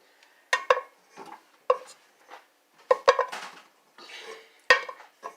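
Shrimp boil ingredients tossed into a pot on a home stove, giving a series of sharp clanks, knocks and rattles of food against metal, spaced irregularly and close up.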